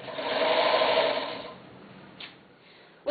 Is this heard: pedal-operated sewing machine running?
yes